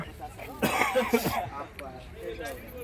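A person coughs a few times, close and fairly loud, while suffering from a cold, with brief voice sounds around the coughs.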